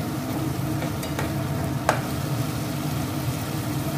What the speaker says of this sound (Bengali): লঙ্কা গুঁড়ো দিয়ে আবারও একটু সময় হাই স্টিমে ভাজবো। কয়েক মিনিট ভেজে নিচ্ছি আমি।